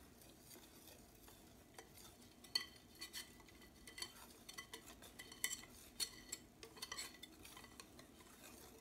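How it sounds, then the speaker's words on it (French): A whisk beating crêpe batter in a bowl, quick irregular clinking taps against the bowl wall with a steady swishing stir, close and fairly quiet, with no talking. "J'espère que le bruit du fouet n'est pas trop fort"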